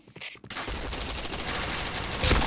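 Rapid gunfire from a first-person shooter match in Point Blank, a dense, continuous burst of shots that stays loud throughout, with a sharper spike near the end.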